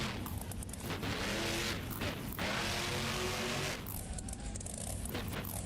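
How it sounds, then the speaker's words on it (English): Truck sliding across pavement in the BeamNG.drive driving game, a loud sustained scraping rumble with crunching impact bursts, continuous throughout. "I could hear that truck sliding across the pavement."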